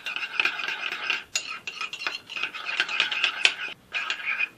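Bread yeast stirred with water in a glass, a spoon scraping and clinking quickly against the glass in short rhythmic bursts with brief pauses, close up and alone.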